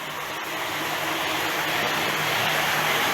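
A Hornby OO gauge 0-4-0 steam tank engine model runs at half power, giving a steady, continuous motor whir and rail hum, close and constant throughout.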